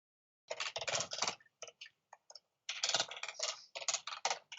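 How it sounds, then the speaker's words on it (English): Fingers type on a computer keyboard in quick bursts of crisp, close key clicks, broken by short pauses and a few scattered single taps. "I could hear you typing away."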